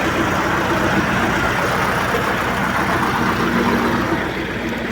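A YUMZ-6 tractor engine runs steadily while ploughing a sunflower field, a loud continuous diesel drone with an even low rumble throughout.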